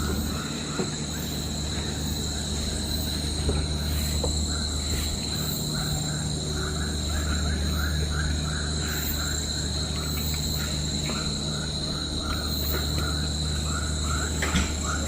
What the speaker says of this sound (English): Listened to this noise from the bugs and insects around.